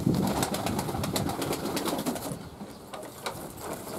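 Pigeons at a pigeon loft, soft repeated cooing and bird calls over a busy, continuous background of rustling and movement, fairly close.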